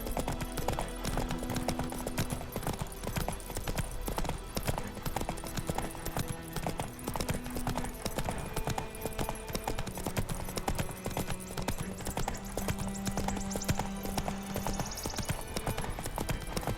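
A horse's hooves clip-clop in a steady, fast rhythm as it gallops in The Witcher 3: Wild Hunt, set against constant loud game background sound, with a few faint tonal notes drifting in and out.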